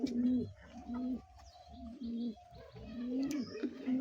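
Fancy pigeons cooing nearby, repeated low throaty coos in a rhythmic series with brief pauses, a few faint chirps and soft background noise.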